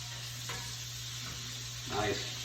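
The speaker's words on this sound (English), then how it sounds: "what I want is that butter to be nice and foamy, to really kind of foam up" Butter foaming in a pan with thyme stems while searing scallops, a quiet steady sizzle with a soft utensil tap early on and a short burst of louder spattering near the end.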